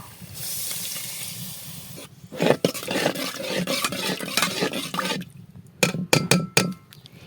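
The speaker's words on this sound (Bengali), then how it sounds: "এবার পানি দিব।" Water splashes into a hot pan of spices frying in oil on a clay stove, a loud sizzling hiss that flares up and settles, followed by several sharp clinks of a utensil against the pan.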